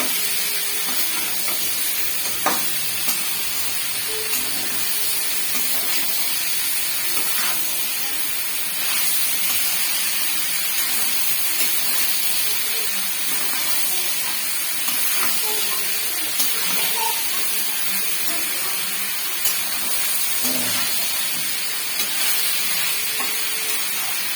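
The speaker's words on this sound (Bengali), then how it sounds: "এবারে ঝিঙেগুলোকে নেড়ে এর মধ্যে জল দিয়ে দেবো" Ridge gourds with water added in a hot pan, giving a steady broadband sizzle and steam hiss that runs unbroken throughout, with faint stirring clicks and no talk.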